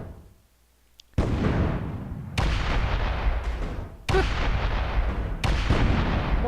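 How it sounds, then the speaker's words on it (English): Explosions in the Space Engineers video game: four loud, close booming blasts at roughly one-second intervals, each with a rumbling decay that carries into the next. "More kabooms!"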